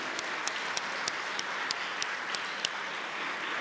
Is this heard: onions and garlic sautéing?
no